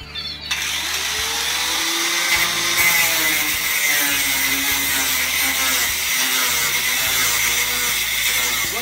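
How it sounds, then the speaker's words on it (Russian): A power saw cuts through a wooden board meant for the floor of a homemade quail cage, a loud continuous whine with fluctuating pitch running steadily and close throughout. "Пилим дальше."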